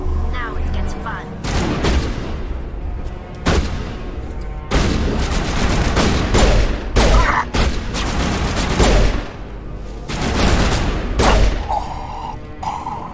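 Gunfire from the video game Mass Effect: repeated loud bursts of shots and booming impacts, dense and overlapping, spread across the whole stretch with brief pauses between volleys.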